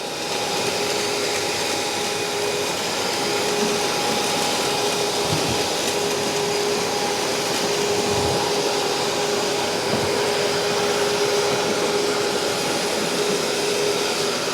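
A Numatic TT3450T vacuum cleaner runs steadily and close by, a constant motor whine and airflow roar with a few low bumps partway through.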